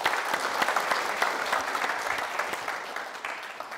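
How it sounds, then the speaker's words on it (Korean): An indoor audience at a parenting talk concert applauds warmly, a dense steady wash of many hands clapping that fades slightly toward the end, with no voices over it. "큰 박수 부탁드립니다."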